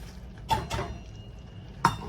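A spoon stirs coconut and chopped pecans into a praline cookie mixture, knocking against the bowl in a few sharp, close clinks separated by quiet scraping.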